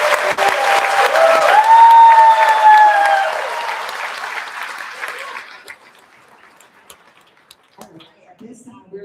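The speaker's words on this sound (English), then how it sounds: "Let's give them one more round of applause," Audience applause at an elementary school fifth grade promotion ceremony, a loud sustained round of clapping that swells, then gradually fades out, with a brief voice heard over it early on.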